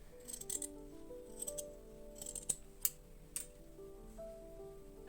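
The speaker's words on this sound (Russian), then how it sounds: "и вырезаю." Scissors cutting out sewn knit fabric for a bunny toy, producing quiet, close snips and light clinks in short, irregular bursts against a low, soft background.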